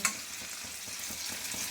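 Shrimp and pointed gourd sizzle in hot oil in a wok, with a steady close frying hiss and soft rhythmic scraping of stirring.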